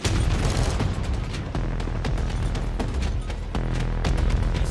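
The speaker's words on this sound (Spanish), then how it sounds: "¡Me están disparando!" Dense bursts of gunfire and booming blasts in Call of Duty multiplayer, rapid overlapping shots crackling steadily for several seconds at loud, close range with no talk over them.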